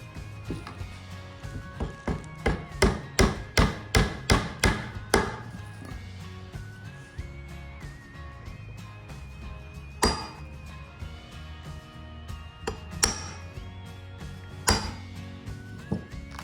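Wooden dowels being hammered into an oyster mushroom log: a quick series of sharp knocks, then scattered single strikes, fairly faint over a low background hum.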